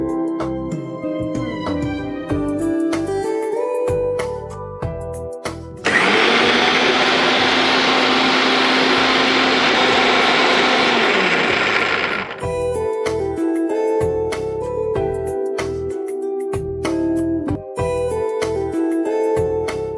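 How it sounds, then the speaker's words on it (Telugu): A kitchen mixer grinder blends banana and jaggery with a loud, steady motor whir lasting about six seconds in the middle, with background music playing before and after. "దీన్ని ఇప్పుడు మనం మిక్సీ పట్టేసుకుందాం."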